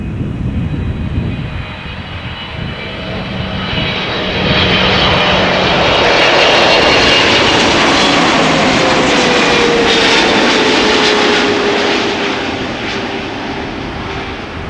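An Emirates airliner departing produces a powerful jet roar that swells to a loud, sustained peak, then slowly eases as it climbs away, wind noise mixed in.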